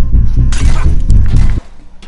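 Window glass shatters in the video game Hello Neighbor, a loud close crash and spray of breaking glass that cuts off abruptly.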